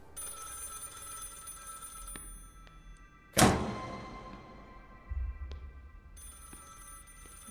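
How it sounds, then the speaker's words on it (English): A phone ringing with a sustained bell tone in the Project Looking Glass video game, broken by a sharp heavy impact and a dull thud, with one brief spoken word. "And there seems to be a phone ringing."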